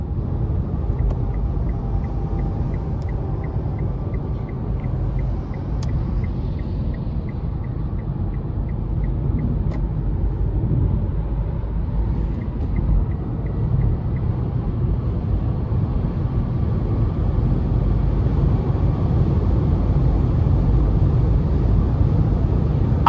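A 2015 Nissan Leaf SV electric car accelerating hard, heard from inside as a steady low road and drivetrain rumble with a faint rising electric whine, no voices.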